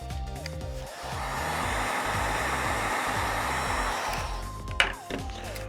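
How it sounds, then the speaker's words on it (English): Heat gun blowing hot air to shrink heat-shrink tubing over a spliced wire connection while wiring a hydraulic diverter valve on a mini skid steer; a steady, fairly loud whooshing airflow with music underneath. "Let's heat shrink this one."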